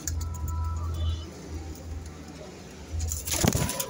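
Teddy pigeons coo in low, soft, repeated murmurs close by, with faint background noise and a louder rustling burst near the end.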